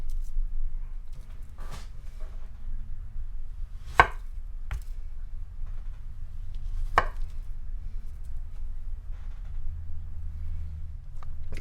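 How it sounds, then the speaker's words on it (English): A knife chops pastelon ingredients into strips on a cutting board, sharp irregular cuts in a sparse rhythm with a couple of louder thunks, close and alone. "I'm going to cut them in like strips like this."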